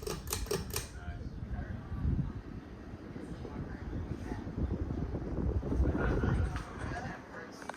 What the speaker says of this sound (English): this fan is definitely blowing a ton of air for high speed